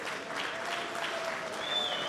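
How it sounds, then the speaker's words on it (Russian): An audience at a mixed martial arts event applauds a fighter, dense steady clapping from a crowd filling the whole stretch without a break. "Аплодисменты,"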